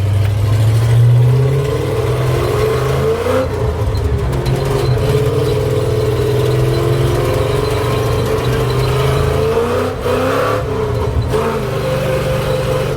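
A Ford highboy truck with a 460 engine accelerates with a deep, loud, steady roar that rises in pitch as it pulls, a continuous rumbling drone with road and wind noise layered over it.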